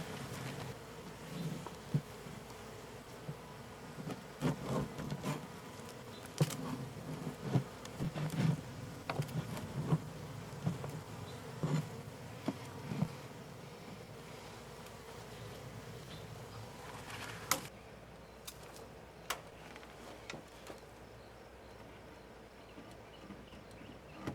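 Honey bees buzzing around a backyard beehive on a homestead, a dense steady drone close by with scattered knocks and handling clicks, easing off toward the end.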